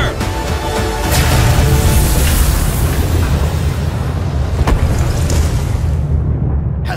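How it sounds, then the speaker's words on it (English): Main cannon firing in the Sand Land video game, a loud sustained roar of explosions and booming blasts with sharp bursts near the middle and end, dense rumbling low end throughout. "Preparing to fire main cannon! Powering up!"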